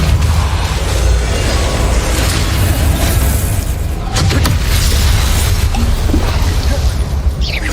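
Depulso force spell cast repeatedly in a Hogwarts video game, heard as a loud, dense wash of blasts and bursts running continuously with no pauses.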